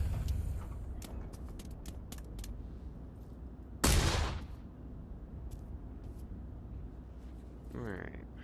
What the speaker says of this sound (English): German grenade.